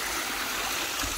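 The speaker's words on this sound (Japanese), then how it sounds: "反対側からも水が落ちてきてて" Water pours from the far side into a mountain stream, a continuous bright rushing splash, close and steady with no other sounds.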